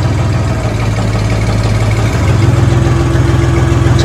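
Siromer 304 compact tractor engine idling steadily up close, a low, even diesel chug with a constant hum that thickens slightly partway through, with no talking.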